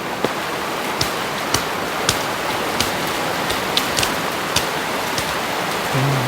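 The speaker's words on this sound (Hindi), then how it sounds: "बाहर तो बहुत तेज बारिश है, तूफान है।" Heavy storm rain falls as a dense, constant hiss that fills the air, broken by scattered sharp drips and taps landing on nearby surfaces.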